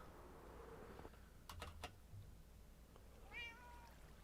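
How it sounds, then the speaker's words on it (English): Cats meow in a Minecraft game world, a few short tonal cries over quiet game ambience, with a brief pair of sharp clicks partway through and a rising meow near the end. "Okay, I hear cats."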